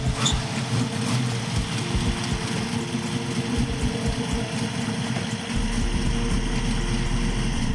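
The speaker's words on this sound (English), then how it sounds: "That's a 572 engine you're looking at right there." A 572 V8 engine in a 1967 Chevelle SS idles with a deep, steady rumble, continuous and close, with a slightly uneven low-end pulse throughout.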